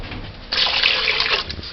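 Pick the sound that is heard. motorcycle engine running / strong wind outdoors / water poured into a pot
water poured into a pot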